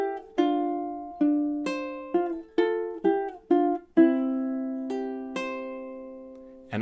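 Solo ukulele plays a slow melodic line from a tune, about a dozen distinct plucked notes in an even rhythm, close and clean with ringing decay.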